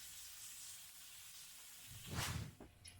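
Onions, shallots and bay leaves sweating in butter in a covered pot for beef stew, a steady quiet sizzle and hiss that swells louder near the end with a brief burst of stirring.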